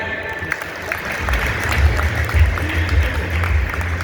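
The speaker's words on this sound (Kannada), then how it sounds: "ಜೋರ ಚಪ್ಪಾಳೆ" A crowd at a Women's Day event claps together for a few seconds, a busy, moderately loud patter of hands that swells slightly toward the middle.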